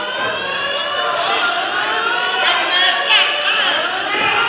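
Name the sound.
fire alarm going off in the building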